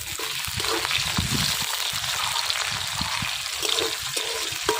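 Chopped onion drops into hot oil with whole spices in a wok, raising a loud, steady hiss and sizzle, with a few stirring scrapes.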